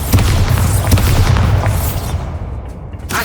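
Bombarda explosion spell cast in the video game Hogwarts Legacy, a loud booming blast with a deep rumbling low end that fades over about three seconds, heard on its own without talk.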